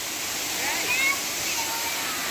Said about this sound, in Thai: เราอยู่กันที่น้ำตกไซโยกจ้า